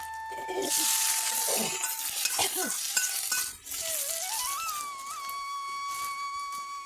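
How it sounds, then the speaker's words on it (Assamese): Potatoes fry in hot oil for an Assamese-style dish, giving a steady bright sizzle with a few utensil clinks and a thin sustained tone running underneath. "তেলখিনি গৰম হোৱাৰ পাছত প্ৰথমে মই আলুখিনি এনেদৰে ভাজি থৈ ল'ম।"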